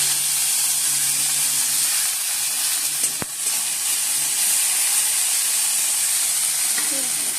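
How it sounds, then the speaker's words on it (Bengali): Bitter gourd frying in oil in a wok, a steady hissing sizzle that holds evenly throughout, with a single sharp click partway through and faint background sounds, close and moderately loud. "উচ্ছেগুলো একটু ভেজে"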